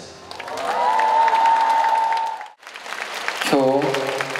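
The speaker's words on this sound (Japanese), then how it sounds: "今日来てくださったファンの皆さん、大きな拍手をお送りします。" Arena concert crowd in Nagoya applauding and cheering during a tour show, a continuous roar with voices calling out over it, dipping briefly before swelling again.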